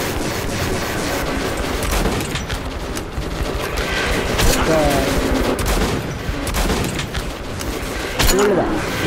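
Dense bursts of rapid gunfire fill the scene in the post-apocalyptic shooter Metro 2033, with loud volleys and booming shots layered over a rumbling background and some voices.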